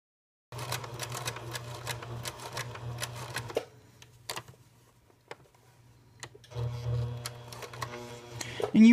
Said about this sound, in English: you will see me stop sewing and lift my presser foot quite frequently